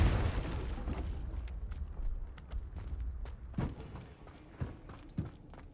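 Confringo fire spell blasts in the Hogwarts Legacy video game, a fiery burst followed by several scattered booms and pops of varying loudness, fading into quieter rumble.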